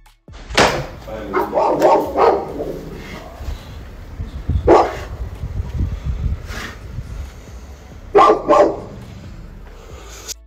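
Dogs bark in short loud bursts, several sharp yaps in quick pairs spread over the clip, with some whimpering and a human voice in between.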